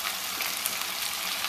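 Green chillies frying in hot oil with a little sugar in a home kitchen pan, giving a steady, close hiss of sizzling that stays even throughout with no talk.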